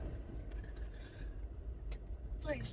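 A car drives slowly near a botanical garden in Hawaii while searching for parking, a low steady engine and road rumble inside the cabin, quiet under soft talking.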